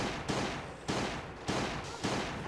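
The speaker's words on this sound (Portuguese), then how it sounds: "enchi ele de tiro e ainda consegui cuspir em mim" Repeated gunfire in the mobile survival game Last Day on Earth while shooting an enemy in an oak forest zone: four sharp, evenly spaced blasts, each decaying into a ringing tail, loud and alone without speech.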